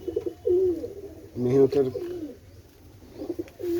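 Pet pigeons coo in soft, repeated throaty bursts close by, while someone speaks over them.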